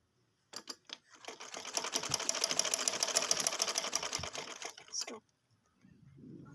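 A sewing machine runs in one steady burst of about four and a half seconds, stitching fabric for a flat ban collar, with short starts before and a quiet rustle of cloth after it stops.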